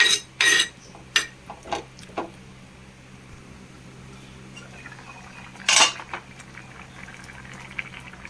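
A breadfruit stew with coconut milk bubbles at a boil in a pot, a soft continuous simmer broken by a few sharp metallic clinks of utensils against the pan, with no voices.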